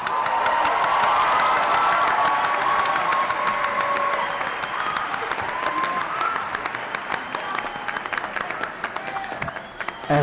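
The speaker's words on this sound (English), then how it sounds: "A round of applause for the graduates of the College of Business." A large crowd applauds and cheers for business graduates at a university spring commencement ceremony, sustained dense clapping with scattered whoops and voices, gradually thinning toward the end.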